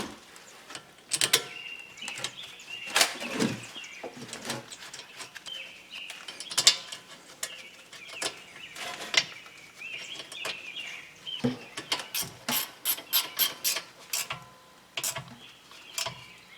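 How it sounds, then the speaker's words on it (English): Hand tools clicking and ratcheting while bolting a rear brake caliper onto a 2011 Honda Accord, a 17 mm fastener; close, irregular metallic clicks and short taps spread throughout, with no talking. "We'll screw the caliper on."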